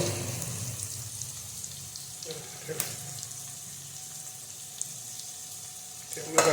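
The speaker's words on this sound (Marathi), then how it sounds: "आता भाज्या परतून घेऊया" Chopped cabbage and other vegetables stir-fried in a pan over a gas flame for veg Manchurian, a steady close sizzle and hiss running throughout with a few light clinks of stirring.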